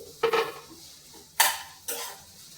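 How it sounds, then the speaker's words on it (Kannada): Beans and carrots dropped into a pan of onion and tomato while cooking Maggi noodles, giving three distinct clattering, sizzling bursts with quiet gaps between them and no talking. "ನೆಕ್ಸ್ಟ್ ಈಗ ಬೀನ್ಸ್ ಮತ್ತು ಕ್ಯಾರೆಟ್ ಹಾಕ್ತಾ ಇದ್ದೀನಿ"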